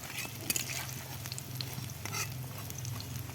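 Steady low sizzling of cabbage pakoras frying in oil, soft and fairly quiet, with faint scraping touches now and then and no talking.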